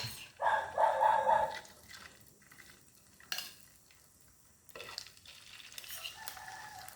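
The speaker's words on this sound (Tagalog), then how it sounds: "Maingay ang aso" A few short dog barks ring out over quiet kitchen sounds of stirring and pan-frying beef loaf, with pauses between them.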